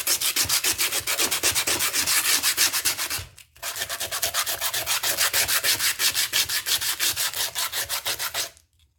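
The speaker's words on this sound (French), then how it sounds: "j'irai le poncer avec la ponceuse de mon mari" Electric sander working on a wooden coat rack, a loud rapid rasping scrub in long even passes, stopping briefly midway and then resuming before cutting off at the end.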